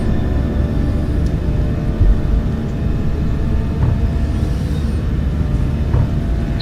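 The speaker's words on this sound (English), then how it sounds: "Okay, we're taking off. Come on, baby. Let's get in the air, John." Boeing 737-600 jet engines during the takeoff roll produce a loud, steady, broadband roar and low rumble from inside the cabin, with faint whining tones above and occasional thumps, no talk.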